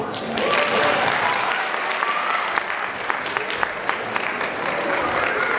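A crowd at a children's cultural festival for Victory Day at Srijon Pathshala applauds in a dense, sustained wash of clapping, with a few voices mixed into the noise throughout.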